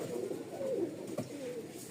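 Rajshahi Giribaz pigeons give low rolling coos at close range, a steady murmur of overlapping calls from a flock, with a brief knock partway through.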